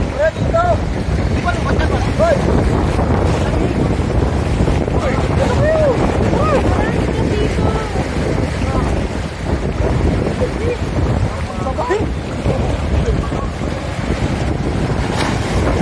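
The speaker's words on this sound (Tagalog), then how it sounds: "Ayan na po, malakas na alon yan." Strong waves slap and churn against a small boat off Maragondon, with steady wind buffeting the microphone and a voice calling out over the loud, continuous water noise.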